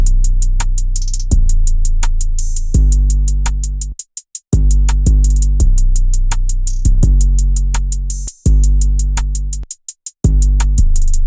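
Hip-hop drum pattern with a booming 808 bass under crisp rapid hi-hats and snare hits, built for a type beat; loud and steady with brief dropouts where the pattern cuts to silence.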